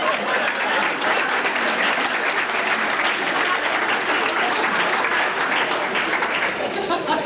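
Sustained audience applause fills a banquet hall, loud and steady from start to finish with dense overlapping claps and no pauses.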